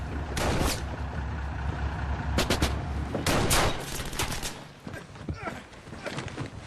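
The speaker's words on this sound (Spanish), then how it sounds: "El batallón se retira bajo una lluvia de disparos" Battle sounds of a retreating battalion under heavy fire: bursts of gunfire and rattling volleys crack at irregular intervals over a rumbling background, with voices present.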